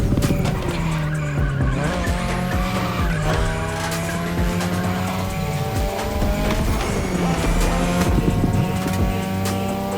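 Tires squeal and skid repeatedly as a car drifts through mountain pass turns in The Crew Motorfest, engine revving and dipping between slides, loud and close with no talk.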